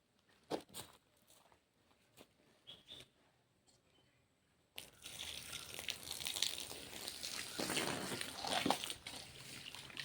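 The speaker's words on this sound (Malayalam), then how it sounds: "കുറച്ച് വെള്ളം ഒഴിക്കട്ടെ" A little water poured into a lotus planting pot: soft, steady pouring and splashing in the second half, after a few faint taps and handling noises in a quiet room.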